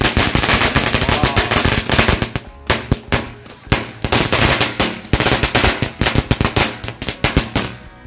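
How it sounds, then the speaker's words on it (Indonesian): Long string of green lighting firecrackers going off during Lebaran celebrations, a loud rapid crackling barrage of close explosions with brief gaps and bursts that fade into scattered pops. "Kita lihat hasilnya teman-teman, mercon green lighting."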